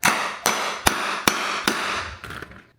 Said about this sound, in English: by using a hammer